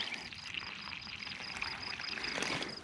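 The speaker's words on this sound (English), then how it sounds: "just to water it in." Water pouring steadily onto soil around a newly planted butternut squash in a farm garden bed, a continuous splashing trickle lasting throughout at moderate loudness.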